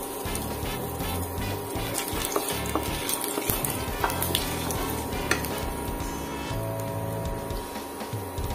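Bay leaf, dried chili and black cumin crackle in hot oil in a wok, a dense continuous sizzle with scattered sharp pops and stirring sounds, loud and close.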